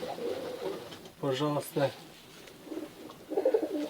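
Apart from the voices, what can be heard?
Tajik black-nosed pigeon cooing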